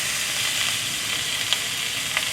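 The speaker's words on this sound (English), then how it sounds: "You hear the sizzle sounds?" Duck breast sears in a frying pan with a steady, dense sizzle and a few louder pops and spits over the hiss, close up and continuous with no talking.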